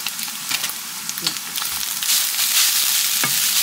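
Tocino frying in a pan gives a continuous close sizzle, broken by brief clicks and scrapes as it is stirred, and the sizzle swells louder toward the end.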